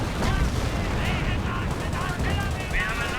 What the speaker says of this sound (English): And firing artillery right there into the retreat path.